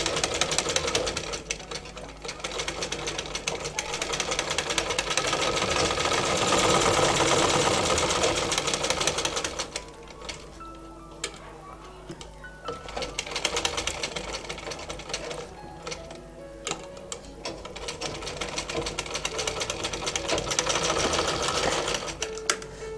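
A sewing machine stitches fabric for a half-collar dress with a zipper at the back. Its loud, close, rapid mechanical whir runs in long stretches, easing briefly in the middle before starting again.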